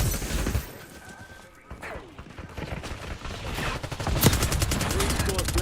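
Rapid gunfire in the video game Call of Duty Black Ops 6 rattles in dense, fast bursts amid other game noise. It grows louder and more continuous toward the end.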